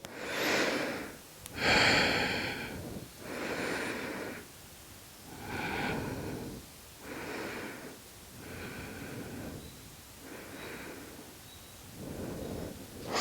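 Slow, steady breathing during a held yoga pose, each deep inhale and exhale rising and falling in a regular rhythm roughly every one to two seconds, close and soft with no talking.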